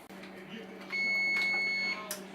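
A kitchen oven timer goes off while buttermilk biscuits bake in cast iron cookware, sounding as one steady, piercing beep held for about a second over low room hum.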